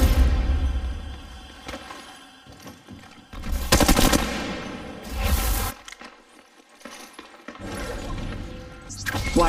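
Automatic gunfire in a mobile shooter game played on Android: loud bursts of rapid machine-gun fire come in several clusters with brief pauses between them, and crashes and thuds mixed in.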